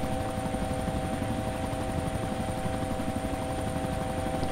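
A helicopter flies in the survival game DayZ, its rotor and engine drone loud, close and constant for several seconds with a steady high whine and no voices.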